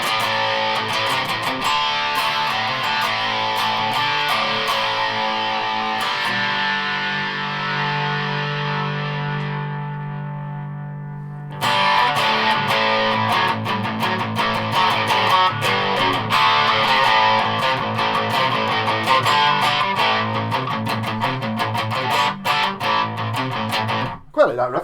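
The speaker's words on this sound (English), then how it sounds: "So I've turned on this one, just with the distortion side of it." Electric guitar played through a Big Muff germanium fuzz pedal on its distortion side, a thick saturated riff with sustained held notes midway, then dense strumming returning loud and continuous.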